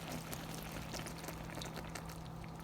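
Water poured from a cup over chicken in a stovetop pan, a steady continuous splashing pour with a faint hum beneath, no talking.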